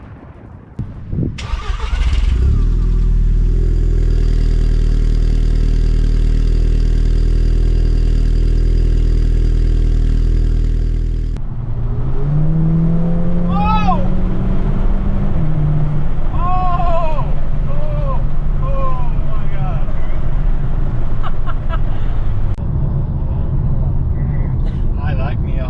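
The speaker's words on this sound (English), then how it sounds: "That IE intake sounds amazing." VW MK5 GTI with an IE intake starts up and revs loudly up close, then settles into a rumbling idle with sharp throttle blips and rising and falling revs; a voice talks over the later part.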